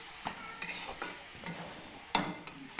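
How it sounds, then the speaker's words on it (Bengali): Chopped tomatoes are stirred with a spatula in a pan over a soft sizzle, about seven distinct scraping strokes at an uneven pace, close and clear with no speech. "এবার আমি টমেটোটা দিয়ে এবার খুন্তিয়ে ভালোভাবে নেড়ে নিচ্ছি।"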